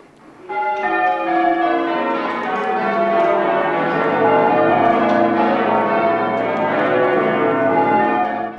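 A peal of church bells, swung full circle by wheels, rings continuously, overlapping metallic tones filling the air loudly and evenly for several seconds.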